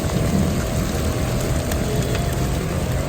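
Heavy rain pours steadily during a flash flood in Kandahar, Afghanistan, a dense, continuous roar of falling water with no breaks, close and loud.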